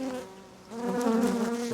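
Honeybees drone steadily in an open hive with brood and honey frames, a close, dense buzz that swells louder partway through and holds at a constant pitch with no voices.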